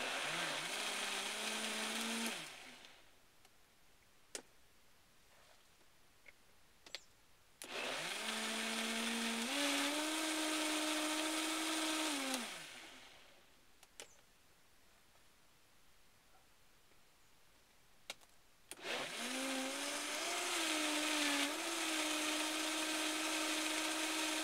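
Blender puréeing raw vegetable soup into a smooth summer stew, two long loud whirring runs with a rising motor pitch, separated by a pause with small clinks, then a third run starting at the end.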